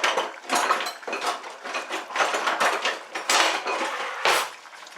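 Busy clattering and scraping of a utensil against a pot, with repeated metallic knocks and rattles close by, no talking.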